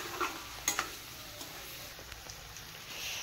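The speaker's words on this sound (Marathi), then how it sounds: "आता यांना मस्त मिक्स करून घेऊया आणि थोडा वेळ मसाला शिजेपर्यंत परतत राहूया।" Masala of black masala and coriander powder stirred and sautéed with onion and tomato in a pan, a faint sizzle with a few soft scraping clicks, fairly quiet throughout.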